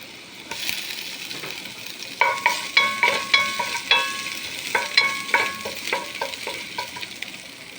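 Garlic and ginger for crab tom yum sizzle in a pan under a rhythmic series of sharp scraping stirs from a utensil, each stroke clear and close with steady frying hiss beneath.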